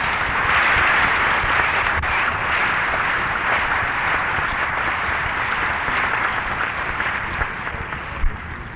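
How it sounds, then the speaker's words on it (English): A memorial gathering audience in a Long Beach theatre applauds, broad dense clapping that holds steady for several seconds before tapering slightly. "I think maybe we owe him an applause"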